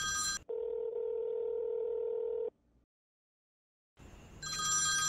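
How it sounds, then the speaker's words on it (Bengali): A telephone rings in a domestic drama scene: one steady electronic tone lasting about two seconds, then silence, with other noise before and after. "এই যে ফোন বাজতেছে, শিওর তোর আম্মুই হবে"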